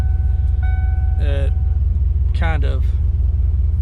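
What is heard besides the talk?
1993 Ford Mustang 5.0 engine running with aftermarket exhaust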